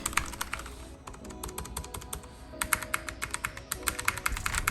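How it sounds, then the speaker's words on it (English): Rapid clacking of Alienware 510K gaming keyboard keys being typed on, close and steady, with bursts of quick keystrokes and short pauses, no voices. "next I'm just going to show you what the keys sound like"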